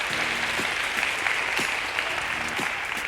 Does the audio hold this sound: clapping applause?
yes